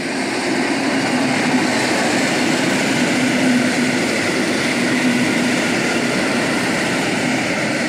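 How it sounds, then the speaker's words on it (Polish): Two passenger trains cross paths at a Polish rail crossing loop, one heading Bielsko to Racibórz and the other Racibórz to Bielsko, giving a steady, loud rumble and roar of wheels and carriages that continues without a break. "Tu jest właśnie krzyżowanie pociągów."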